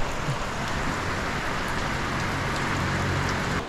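Heavy rainy-season rain pours down in a dense, constant hiss, loud and unbroken throughout.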